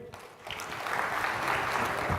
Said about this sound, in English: A big round of applause, please, for Michael Abid